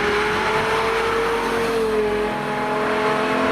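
The V10 engine of a Lexus LFA wails loud and close at high revs, holding a steady howl that eases slightly before settling.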